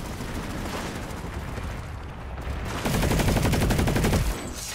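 Rapid automatic fire from the Vanu faction's starter gun in the PlanetSide shooter, a dense rattling burst that grows louder and more intense partway through, set amid a continuous noisy battlefield backdrop.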